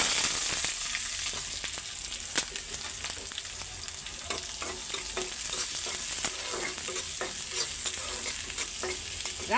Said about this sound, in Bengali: শাক সিদ্ধ হয়ে গেছে, তো শাকটাও বাগার দিয়ে নেই।